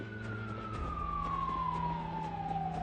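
In Project Zomboid, a game siren glides in one long, falling tone over a low droning hum, a steady mid-level sound with no voices over it.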